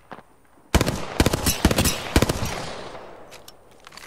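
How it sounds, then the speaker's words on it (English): Automatic gunfire in the video game Apex Legends, a loud close burst of rapid shots starting abruptly and rattling for about two seconds before fading, followed by faint distant shots. "I am taking fire, friends."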